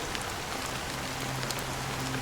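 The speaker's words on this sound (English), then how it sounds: "it's still raining." Steady rain falling on surfaces in the video game Honkai Star Rail, a soft even patter with scattered drops and a low musical drone beneath.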